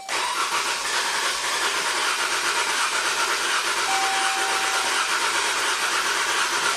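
A 2015 Jeep Grand Cherokee with the Pentastar V6 cranks with the fuel pump fuse pulled and a cylinder losing compression, a loud, continuous whirring starter drone with uneven rhythm and no speech.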